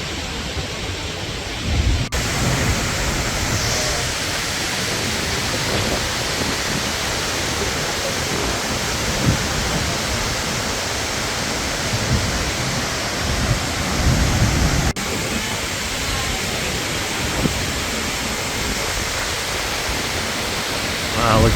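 Skogafoss waterfall in Iceland roars as a dense, continuous wall of crashing water, loud and close, with gusts and rumbles swelling throughout and no clear speech on top.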